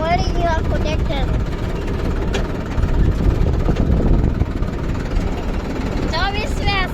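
A tractor engine rumbles steadily at close range as the tractor turns on its own with no hands on the wheel. The low drone runs throughout, with people talking briefly at the start and end.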